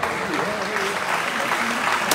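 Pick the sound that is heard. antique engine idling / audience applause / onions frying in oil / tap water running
audience applause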